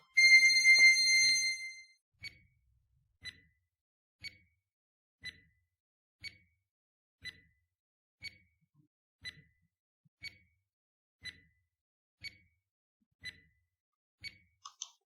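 A countdown timer beeping once per second for about fifteen seconds, with sharp, evenly spaced, faint beeps after an opening chime, and a brief final tone at the end.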